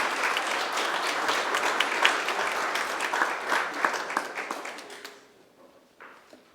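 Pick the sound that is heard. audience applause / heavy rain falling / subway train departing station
audience applause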